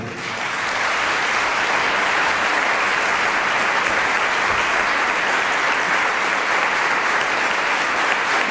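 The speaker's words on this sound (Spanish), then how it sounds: "Recibimos con un fuerte aplauso en el día de hoy" Large audience at a congress hall applauding to welcome a speaker, a steady, dense wash of clapping that swells in and holds strongly throughout.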